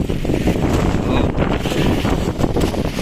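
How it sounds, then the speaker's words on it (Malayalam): Strong wind with light drizzle at Edappally in Kochi, Kerala: constant loud, low buffeting gusts hitting the microphone, filling the whole stretch without pause. "നല്ല കാറ്റും അതേണക്കെ ചെറിയൊരു പൊടി മഴയും."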